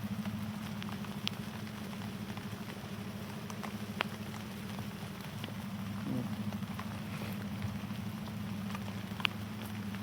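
Steady rain falls over a pomegranate orchard, a dense even patter with a few sharper drop hits, over a constant low hum, no voices.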